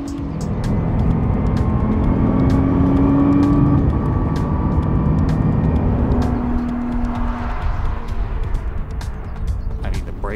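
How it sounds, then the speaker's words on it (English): Nissan GT-R driving fast around the west loop of Miller Motorsports Park, its engine a loud, continuous roar with rising and falling revs through the turns, heard from close by. "We're driving the west loop of Miller Motorsports Park, which is about half the total length of the track."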